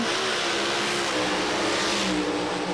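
A loud, high-pitched Pro Alcohol dragster engine holds at high revs on the drag strip line, steady and close, with no voices.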